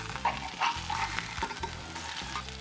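Burger patty frying in a cast iron pan, an up-close crackling sizzle with bursts of spatter and a couple of scraping touches, no talk.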